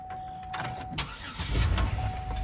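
A 2007 Pontiac Grand Prix engine cranks and catches at an auction lot, settling into a low rumbling idle that grows louder, with a steady whine running throughout and no talk.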